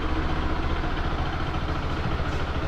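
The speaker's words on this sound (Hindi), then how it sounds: "न्यूट्रल करके सेल्फ मार के चेक करते हैं" A Bajaj Pulsar RS200 motorcycle engine idles in neutral after a self-start during servicing, a steady close rumble that holds evenly throughout.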